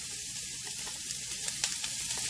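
Red onions sizzling in warm oil in a pot, a steady close hiss of frying with a few brief crackles and no talk.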